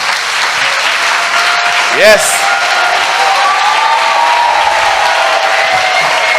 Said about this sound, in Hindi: क्या ऐसा हो सकता है हम जोरदार यीशु के लिए ताली बजाएं?